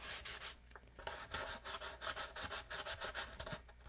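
Steady back-and-forth sanding scrapes with a regular rhythm, close and fairly loud, and no talking over it.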